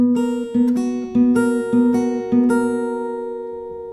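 Acoustic guitar strumming a chord pattern from a song, steady rhythmic strokes ringing clearly and close, with a chord change midway and the last chord left to decay.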